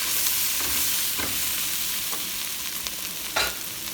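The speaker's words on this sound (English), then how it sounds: "So we take some tomato paste, we're gonna add it, and we're gonna roast it for like a minute or so together with all our vegetables" Tomato paste roasting with vegetables in a pan for German braised beef rolls, a steady close sizzle punctuated by a few scraping stirs of a utensil, with no talk.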